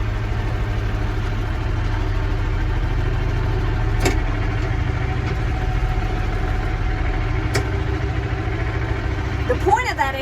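A tractor with a hay mower attached rumbles loudly and steadily, its low engine drone continuous and close, with a couple of brief clanks and a short rising whine near the end.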